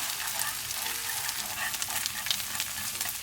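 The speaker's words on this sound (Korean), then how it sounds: "팬 한쪽에 식용유 반 스푼하고 버터 반 스푼 넣고 아까 저희가 풀어놓은 계란을 넣고 스크램블을 해주세요" Beaten eggs scrambling in half a spoon of cooking oil and half a spoon of butter in a frying pan beside fried rice, giving a steady, close, bright sizzle throughout with faint stirring.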